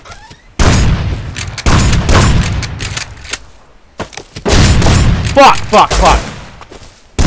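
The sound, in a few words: pistol gunfire in the video game Rust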